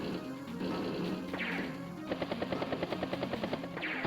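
Attack strike hitting a mech unit in Advance Wars: Days of Ruin, a burst of crashing impacts followed by a rapid machine-gun-like rattle of repeated hits, loud and busy against a game soundtrack.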